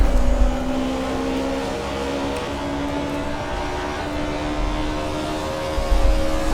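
Race cars in Automobilista 2, a Mercedes chasing a BMW, engines droning steadily at high revs with a constant tonal whine, a continuous loud mechanical roar with slight swells near the start and end.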